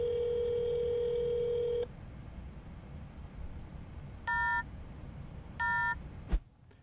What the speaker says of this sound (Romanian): Încerc să sun pe toate numerele de telefon